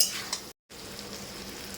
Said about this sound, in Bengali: এবার সব কিছু ভালো করে মাখিয়ে নিতে হবে